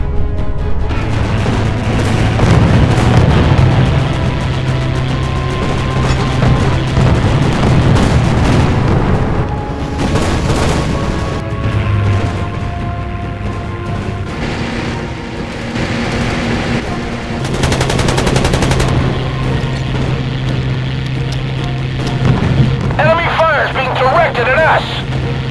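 Naval battle in the game Battlestations Pacific, with booming gunfire and explosions over a steady low engine drone and dense rumble, loud and continuous, while voices talk over the action.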